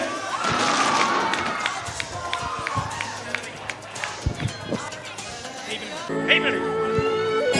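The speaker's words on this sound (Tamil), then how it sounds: "கைத்தட்டி உற்சாகப்படுத்துங்க" School annual day audience at E.K.M. Abdul Gani Matharasa Islamia Primary School applauding a student, scattered claps and thumps rising and falling under a loud announcer's voice, with a low hum near the end.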